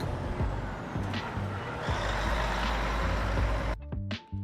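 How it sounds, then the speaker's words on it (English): A reversing truck sounds a steady run of repeated warning beeps over a low diesel rumble, with sharp hisses of air brakes near the end, loud and close. "A truck or lorry is very big. It carries heavy things on roads."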